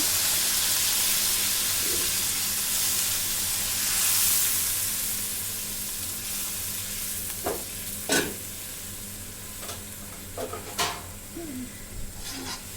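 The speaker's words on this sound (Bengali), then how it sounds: "এখন ঝোল দিয়ে দিব, ঝোল দিয়ে দিচ্ছি" Liquid for a curry gravy goes into fried spice masala, setting off a loud, close sizzle and hiss that slowly fades. Spoon clinks and knocks follow later, with no talk.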